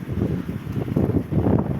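Gusty winter wind on a Yakutsk street in January, with snow falling, buffets the microphone in low, rumbling surges, rising and falling over a couple of seconds with no voices.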